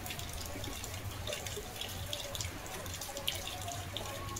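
Steady rain falling outdoors with a continuous patter and occasional drips, fairly faint, with no talking.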